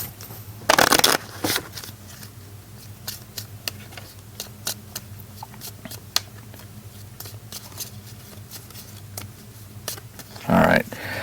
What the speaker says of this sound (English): I have to shuffle this.